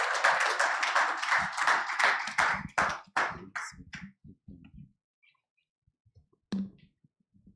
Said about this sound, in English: let's please receive him with a warm round of applause as he comes up for the welcome address